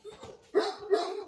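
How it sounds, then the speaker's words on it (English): Great Dane dogs barking at a breeder's kennel, a few loud deep barks in quick succession with short gaps, fairly close and heard alone. "Hopefully you can hear me with the dogs barking."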